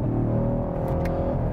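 Race car accelerating hard into a corner junction on a circuit, engine holding a loud, steady high-revving drone close by with a brief shift of tone midway.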